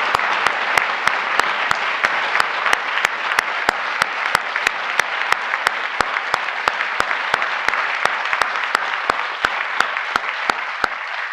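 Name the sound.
applause for the president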